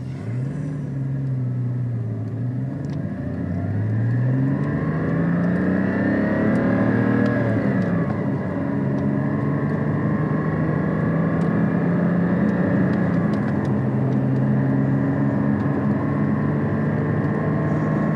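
A 2016 Porsche GT4 sports car pulls away from a standstill in first gear and climbs through the revs, its steady loud drone rising in pitch with no talking over it.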